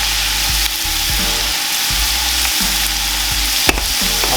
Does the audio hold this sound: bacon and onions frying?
yes